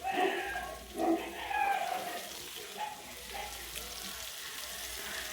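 Ground spices with salt, turmeric and cumin powder sautéing in a pan for rohu fish curry with raw pumpkin: a soft, steady sizzle broken by a few light stirring scrapes and clinks, close and moderately quiet.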